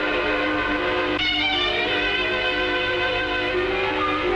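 Train in motion, a steady rumbling roll with a sustained tonal whistle or horn-like drone layered over it, continuous and fairly loud.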